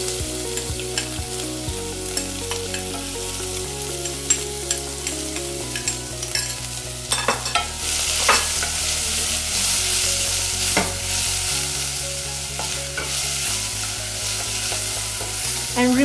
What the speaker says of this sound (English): Then I'm going to add some onions in here.